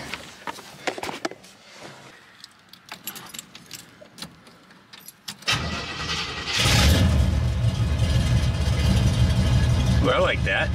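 A 1969 Chevrolet Impala with new 3-inch dual exhaust and Summit Racing mufflers fires up after keys jangle and scattered handling noises, settling into a loud, steady rumbling idle that fills the second half.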